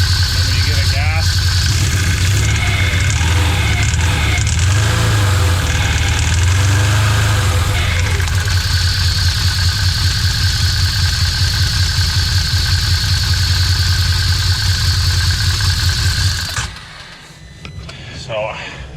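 Motorcycle engine idling with a low, steady drone and rising in pitch under throttle, close and loud throughout, then cutting down to quiet near the end; a voice talks briefly over it.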